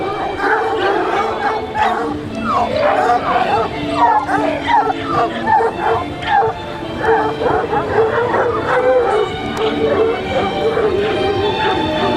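Several dogs at an outdoor animal event in Lamballe bark, yip, whimper and howl in overlapping bursts, loud and close, under a lively crowd murmur.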